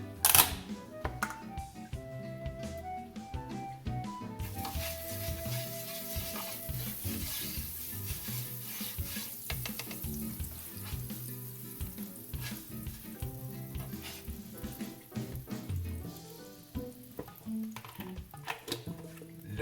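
French toast frying in butter in a pan, a steady crackling sizzle running throughout with scattered clicks and light clatter of utensils, no talking.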